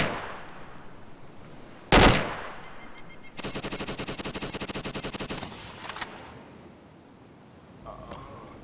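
Machine gun fire in the military video game ArmA 2: a loud single blast, then a sustained rapid burst lasting about two seconds, followed by a few scattered shots, with a distant background rumble.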